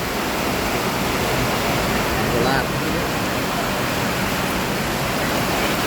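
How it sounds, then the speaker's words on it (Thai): Steady, dense hiss of rain falling in Bangkok, even and continuous throughout with no distinct drops standing out. "เสียงที่พี่ได้ยินนี่คือเสียงฝนนะ"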